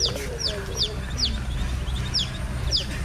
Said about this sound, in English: This little baby chicken was adopted by this duck.